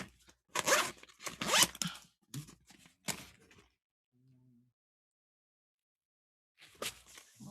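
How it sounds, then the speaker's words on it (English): Zipper on a lunchbox-style storage box being zipped open and closed in several quick, close rasping pulls, with a short pause between them. "Zipper works fine on it."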